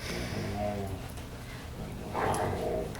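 Pet dogs yip and bark in the background, muffled and somewhat distant, while a person talks over them throughout.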